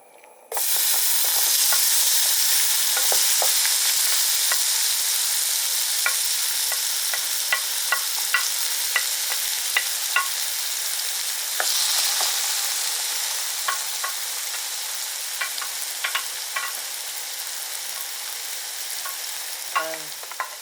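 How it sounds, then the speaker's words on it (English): Tomato fries in a pan with a loud, steady sizzle throughout, broken by frequent small clicks and scrapes of stirring, with no voices. "we'll take them off and then we'll fry the tomato"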